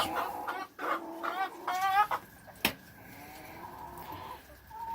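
Several hens cluck and croon nearby in short bursts, then a quieter stretch with a faint sustained call in the background.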